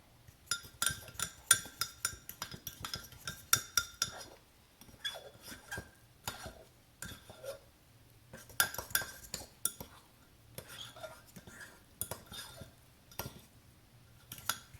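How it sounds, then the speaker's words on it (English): A spoon clinks and scrapes rhythmically against a mug while pumpkin mug cake batter with stevia is stirred, in quick bursts of metallic taps with short pauses and no talk. "Now you're going to mix it well."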